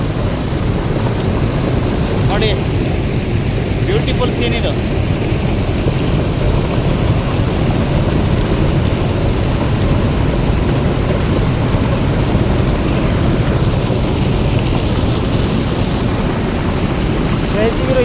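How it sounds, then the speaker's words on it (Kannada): Water pours from the channel of Marikanive dam in a loud, unbroken roar that stays constant throughout. There is some wind buffeting and someone speaks briefly over it. "ನೋಡಿ ಡ್ಯಾಮ್ ಚಾನಲ್ ನೀರು ಬೀಳ್ತಕ್ಕಂಥ ದೃಶ್ಯವನ್ನು ನೋಡ್ತಾ ಇದ್ದೀರಾ ಗಾಯ್ಸ್"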